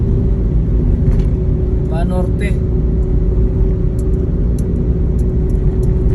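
Heavy traffic on EDSA Balintawak rumbles along steadily, with engines droning up close; a voice speaks briefly early on, and light high clicks and squeaks come later.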